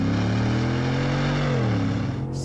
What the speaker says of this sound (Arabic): صوت الإكزوست صح.